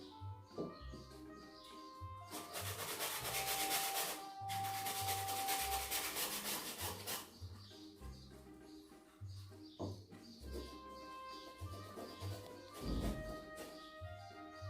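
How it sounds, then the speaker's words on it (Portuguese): Sandpaper rubbing the corners and edges of a small wooden box, a loud rasping stretch of scratchy strokes in the middle, with quieter rubbing before and after. "Lembre-se, dos lados você não precisa lixar, sempre nos cantos das caixas e na borda."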